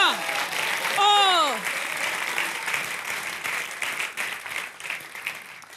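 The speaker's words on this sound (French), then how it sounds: "Il faut applaudir" At a stand-up comedy festival show, a crowd breaks into sustained applause, with a voice sliding through an exclaimed sound at the start as loud clapping carries on steadily beneath.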